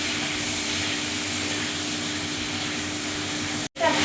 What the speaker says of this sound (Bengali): এবার আমি লাল করে ফুলকপিটা ভেজে নেব